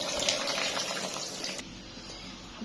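Tap water pours over washed meat in a pot to soak it, a full gushing, splashing stream that runs for about a second and a half. The flow then stops, leaving quieter room noise with a faint click at the end.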